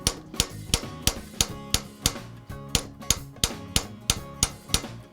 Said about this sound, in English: I'm letting the hammer bounce off the stake.